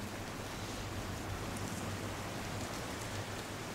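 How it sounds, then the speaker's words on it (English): Steady rain falls all around, a dense, even patter with a low rumble underneath and no voices. "That rain sounds spooky"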